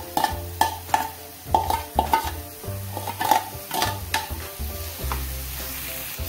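Potatoes and peas sauté in butter while being stirred, the utensil scraping and clinking against the pan in a quick irregular rhythm over a constant close sizzle, with no voices.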